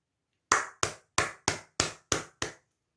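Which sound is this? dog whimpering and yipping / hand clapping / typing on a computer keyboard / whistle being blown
hand clapping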